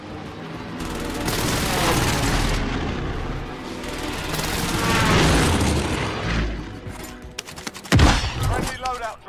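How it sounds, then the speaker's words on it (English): Call of Duty: Warzone precision airstrike detonations boom in rolling waves of heavy explosions and gunfire, loud and dense, with game voice chatter mixed in. "friendly precision airstrike inbound"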